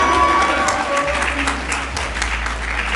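A crowd at a high school graduation ceremony claps and cheers for a graduate, dense continuous applause that is loud at first and eases off slightly.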